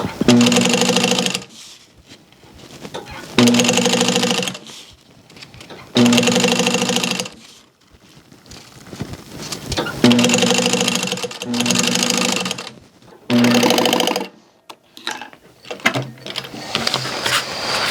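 A sewing machine stitches strips of fabric into webbing in loud bursts of roughly a second or two, with quieter pauses between runs as the work is realigned.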